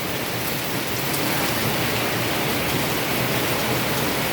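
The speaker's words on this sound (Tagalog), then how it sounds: "Malakas na ulan na yan." Heavy rain drums steadily on a polycarbonate roof of Sunlite Jazz and twin-wall panels, a dense, even hiss with no gaps, close and loud throughout.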